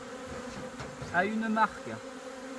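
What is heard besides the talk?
honeybees buzzing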